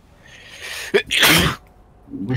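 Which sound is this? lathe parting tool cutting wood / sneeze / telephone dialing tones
sneeze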